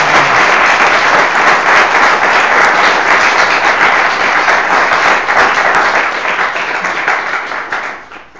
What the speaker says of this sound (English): Let's get a great round of applause